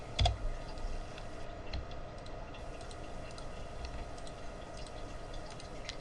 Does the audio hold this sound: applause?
no